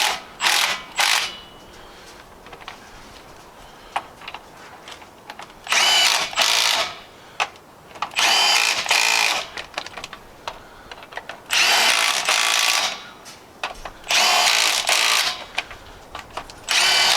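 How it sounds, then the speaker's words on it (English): A Milwaukee 1/2-inch stubby impact wrench tightens lug nuts on a car wheel in several loud, close rattling bursts separated by short pauses, with no talking. "we'll tighten them using the impact"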